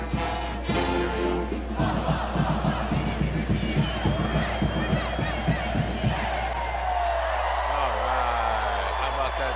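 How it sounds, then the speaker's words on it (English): Cheer squad and crowd at a basketball video game cheer and whoop in rhythmic bursts, with loud rowdy yelling over arena noise and a brief tuba-like note near the end. "Cheer squad for the Cavaliers."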